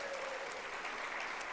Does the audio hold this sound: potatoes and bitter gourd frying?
no